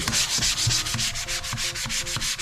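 Sandpaper rubbed back and forth across a leather belt by hand, a close, steady rhythm of rasping strokes repeating several times per second with no talking.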